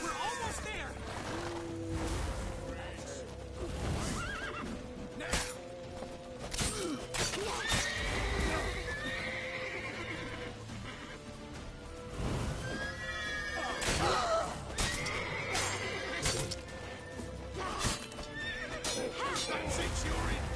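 A horse in The Witcher 3 neighs and whinnies loudly while its hooves clip-clop, set among the rumble and crashes of game action, with voices speaking over parts of it.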